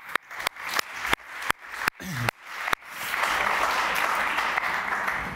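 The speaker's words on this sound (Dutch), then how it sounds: "Geef ze een warm applaus." An audience at a panel discussion on rainbow families and the law claps, starting with sharp, spaced hand claps that quickly merge into a sustained, full round of applause.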